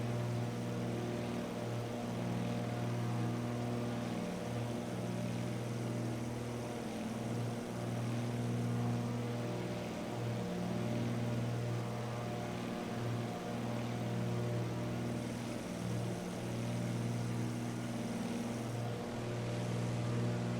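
A DHC-2 Beaver's radial propeller engine drones steadily in flight in Microsoft Flight Simulator 2024, a constant loud low hum with faint rhythmic pulsing throughout.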